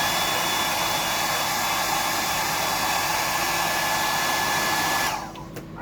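A hair dryer blows steadily and loudly on a freshly painted deep-diving fishing lure, a constant whooshing hum that cuts off near the end.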